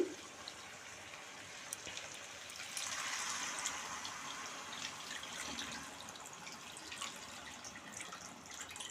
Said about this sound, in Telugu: దీని మీద చింతపండు పులుసు పోసేసేయండి